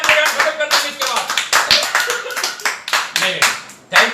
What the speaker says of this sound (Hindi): ऐसे मेहनत के लिए तालियां